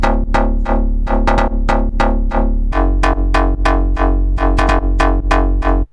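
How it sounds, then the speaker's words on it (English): Pigments 'Bass de Rave' pluck bass with heavy sidechain pumping, a loud rhythmic run of short plucked notes that keep ducking and swelling over a sustained low tone, played alone with no voices. "the second bass I added is from Pigments, and that's more of like a pluck bass"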